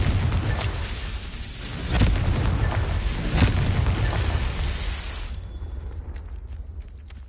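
Blasting-spell explosions in a Harry Potter video game: deep rumbling booms that swell and linger loudly, with a couple of sharper bursts near the middle before the blast fades into a quieter low rumble.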